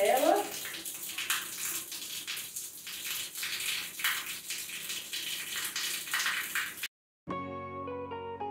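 Shower water runs steadily as a baby girl gets her first shower, a continuous hiss that cuts off sharply near the end, followed by a soft musical tone.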